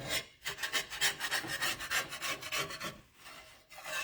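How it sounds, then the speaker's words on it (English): Spatula strokes scraping cooked egg across a pan while making a Japanese egg wrap, a rapid run of short raspy scrapes repeating in an uneven rhythm, close and fairly loud, with a brief pause near the end. "Now, you may not have as much scraping to do when you do it."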